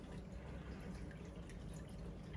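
Water runs into the shaft of an Aquabee UP5000 pump as a steady, faint trickling wash with a few drips, heard alone at a low level throughout.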